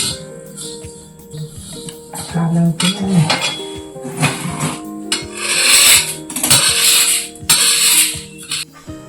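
Gram (chickpea) being ground into coarse flour on a hand-turned stone mill in a village home: a rough, gritty rasping that comes in uneven rhythmic bursts with occasional clinks, fairly close and loud, and no talk.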